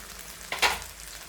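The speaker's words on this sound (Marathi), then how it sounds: "आता हे सगळं साहित्य असं हलवून घेते चांगलं खरपूस भाजून" Garam masala and red chili powder frying in a pan for a village-style cluster bean dish, a short sizzle that swells as the spices are stirred, brief and fairly close with no talk.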